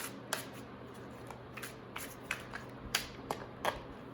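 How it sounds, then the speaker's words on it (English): Soft, close shuffling of tarot cards: a series of crisp riffles and snaps at irregular intervals over a faint hiss, with no talking. "I just saw while shuffling as well"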